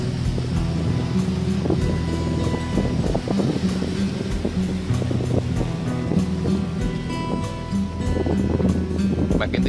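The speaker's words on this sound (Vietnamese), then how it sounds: "khi mà quay phim mà bị sẽ nghe cái tiếng gió" Wind and surf on Vung Tau beach in Vietnam, with steady gusts buffeting the microphone over the continuous wash of breaking waves, loud and close throughout the whole stretch.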